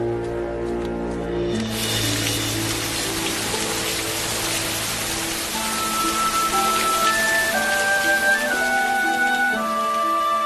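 Rain falls in a dense, steady wash of patter that starts abruptly after a short pause and continues under soft sustained musical tones.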